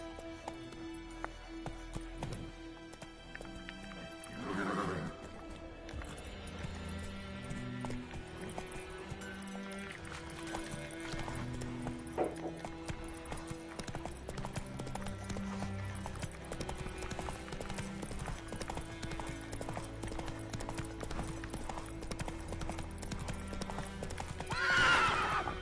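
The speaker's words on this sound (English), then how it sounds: "Whoa there, Roach. Faster." A horse in The Witcher 3 video game gallops with rhythmic clip-clop hooves against an ambient score, with a whinny near the start and a louder neigh at the end.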